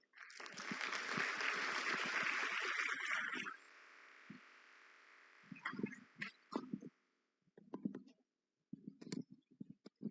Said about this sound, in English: Please, let's welcome Dr. Xii Bedini with a warm round of applause